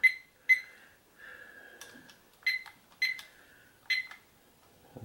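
A timer sounds repeated sharp electronic beeps, some in quick pairs, with short gaps between them, close and clear in an otherwise quiet room.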